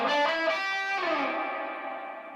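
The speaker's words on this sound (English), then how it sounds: "I'll plug into this channel so you can hear the reverb works" Electric guitar played through a 1965 Fender Super Reverb amp, a sustained strummed chord ringing out loud and clear, then a second chord left to decay into a wash of reverb.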